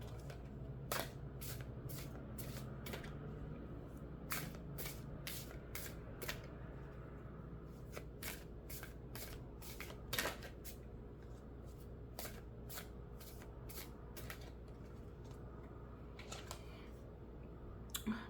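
Tarot and animal oracle cards are shuffled by hand in repeated crisp riffling bursts, close and fairly quiet, separated by short pauses over a low room hum.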